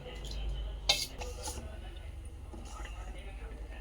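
A spoon stirs sorghum semolina in a pot of boiling water to keep lumps from forming, soft scrapes and one sharp clink against the pot, fairly faint, under a low background hum.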